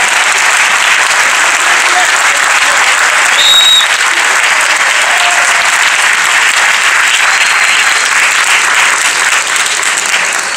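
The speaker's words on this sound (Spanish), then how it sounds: "pedirles un aplauso bien grande para ustedes que son los realizadores de esta película" Sustained, loud applause from an audience at a film premiere ceremony at the Museo del Bicentenario, honoring the young makers of the film; dense steady clapping throughout with faint voices mixed in.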